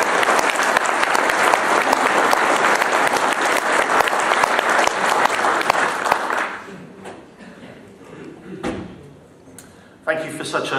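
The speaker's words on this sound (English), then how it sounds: "So big round of applause for Ian." Applause for Ian Puddick at a talk, dense and loud from a large audience, sustained for several seconds before tapering off into scattered claps and a few noises.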